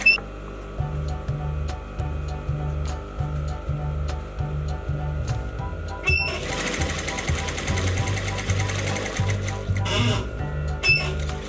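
Sewing machine stitching a seam pocket in fabric, with a steady rhythmic chatter of the needle in bursts, a short pause near the middle and then a louder, busier run of stitching close by.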